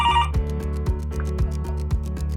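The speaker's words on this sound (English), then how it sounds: "The phone was ringing" Telephone ringing loudly and close, a rapid repeating electronic trill pulsing in quick regular bursts with no voices.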